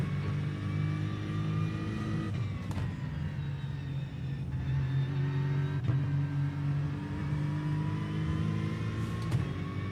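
A GT3 race car engine in iRacing revs hard with repeated rising sweeps and upshifts breaking the pitch, a continuous loud drone, no one talking.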